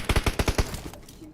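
Automatic gunfire in the mobile battle-royale game BGMI, a rapid burst of about six close, loud shots in even rhythm, then a fading echo.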